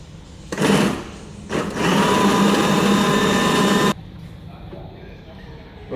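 A food processor whirring through a grated potato mixture for potato nik: a short motor burst, a brief pause, then a longer loud steady grinding run that cuts off to quieter kitchen room sound.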